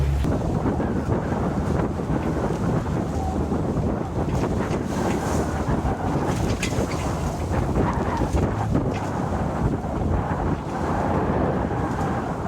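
Strong wind roars steadily against the microphone on a sailboat, with water rushing and sloshing beneath it, loud and continuous with no voices.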